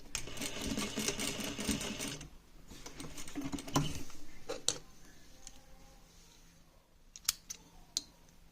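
A sewing machine top-stitches fabric for outfit straps, a close whirring run of rapid needle stitching that stops after a couple of seconds, followed by quiet clicks and handling noises, with no voices.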